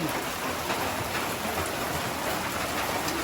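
Steady rain pours down in an unbroken hiss, close and even throughout, with no voices.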